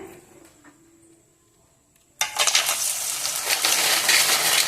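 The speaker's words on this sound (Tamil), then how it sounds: "இனி இதை நம்ம அப்படியே சூடான எண்ணெயில் பொறிச்சு எடுக்கிறோம்" Rice vathal dropped into hot oil for deep-frying bursts into a loud, steady sizzle after a quiet opening, close and continuous to the end.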